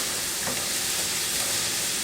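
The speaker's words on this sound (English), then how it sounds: "Going to move that garlic right over the oil." Soft, steady sizzle of minced garlic frying in hot oil, a brief continuous hiss with no talking.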